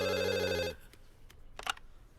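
A telephone rings in a Hindi movie scene: a loud electronic ring tone sounds for under a second, then cuts off, leaving faint rustles and a brief clack.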